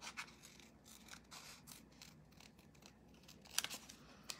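Scissors snipping through material during a project of painting Doc Martens boots, a few quiet crisp cuts spaced apart, close by and faint, with no talking.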